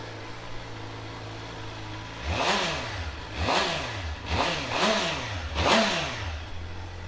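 A 2012 Suzuki GSX-R600 motorcycle idles steadily nearby, then the engine is blipped through four or five quick revs that each rise and fall back to idle.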